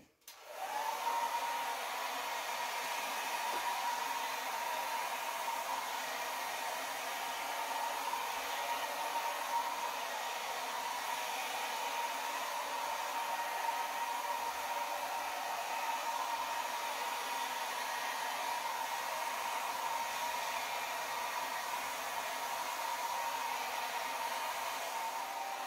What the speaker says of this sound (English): Let's try and maybe move this around with the hairdryer. This is a Baby Bliss travel hairdryer.